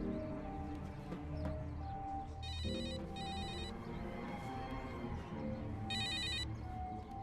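A telephone rings in repeated bright electronic bursts over a busy background of music-like tones and noise, in a scene from the Hindi film Banjo.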